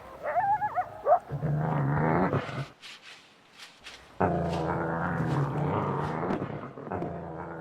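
Coyotes harass a wolf near their den in Yellowstone with high yips, whines and growling bursts, broken by a brief quiet pause before the agitated calling resumes.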